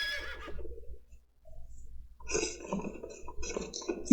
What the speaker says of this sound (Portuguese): Tem um cavalo aqui.